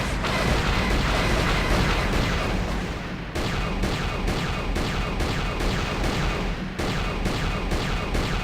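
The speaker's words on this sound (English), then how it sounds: "Incoming fire!" Incoming blaster fire and explosions in Star Wars: Knights of the Old Republic on the original Xbox, a dense continuous barrage of loud rumbling booms with rapid repeating bursts throughout.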